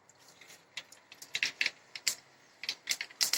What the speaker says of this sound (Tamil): கடுகு போட்டேன்.